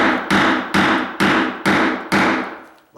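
A tool is struck repeatedly into old solid oak floor planking to pry it up: six sharp, loud, evenly spaced impacts, each ringing off before the next, close by with no talking.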